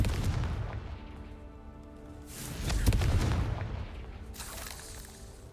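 The Confringo explosive spell goes off in the video game Hogwarts Legacy with deep, rumbling booms, a low blast around the middle followed by a fainter crackling burst near the end.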